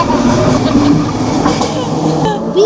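Commuter train passing on rails between Burnaby and Port Coquitlam, a loud close rumble with rhythmic clickety-clack of wheels and a brief squeal near the end.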